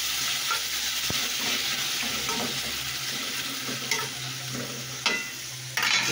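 Ingredients sautéing in a pan for a Filipino upo dish, a steady sizzle with stirring scrapes and a few sharper clanks of a utensil against the pan near the end.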